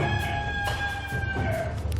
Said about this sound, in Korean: 닭까지 울었으니 이제 잡으러 가볼까요?